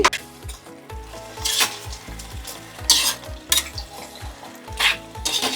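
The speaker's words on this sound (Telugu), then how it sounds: "కర్డ్ వేసుకొని బాగా కలుపుకోవాలి" Curd being stirred into chicken pulao in a hot pan, a spoon scraping and clinking against the metal in repeated strokes over a steady close sizzle, with no voices.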